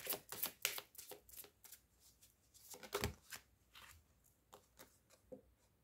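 Playing cards are shuffled nearby in a series of crisp, rapid riffles and flicks, with short pauses between bursts and no voices.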